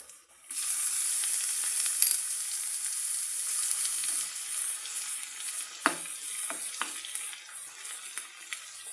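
Garlic and cumin seeds sizzle in hot oil for a spinach dal tempering, a bright, steady hiss starting suddenly and continuing throughout, with a few soft clinks near the end.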